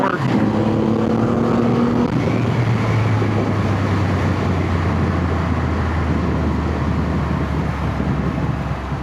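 Triumph Rocket 3 motorcycle engine pulling hard while riding, a loud, rising roar that settles into a steady rumble with rushing wind.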